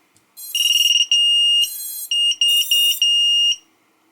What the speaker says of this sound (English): if it keeps beeping, that's actually the radio beeping